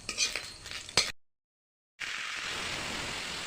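Dry red chillies, mustard seeds and a bay leaf fry in oil in a wok. Scraping stirring comes first, then a short silence, then a steady, bright sizzle that fills the rest.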